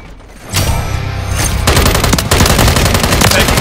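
Gunfire in Modern Warfare 3 multiplayer: loud, close, sustained bursts of automatic fire that go on almost without a break.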